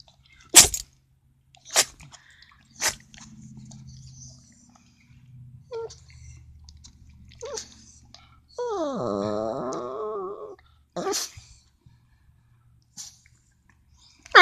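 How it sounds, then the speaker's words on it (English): A dog has a sneezing fit: several sharp, explosive sneezes come a second or so apart, then a short whining moan and more sneezes, with soft snuffling and quiet gaps between them. "You having a sneeze attack?"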